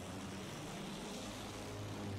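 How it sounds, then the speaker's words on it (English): Enemy propeller plane flying overhead in a World War I shooter game, a faint continuous engine drone with low throbbing hum, steady and distant, no voices over it. "Enemy plane up there!"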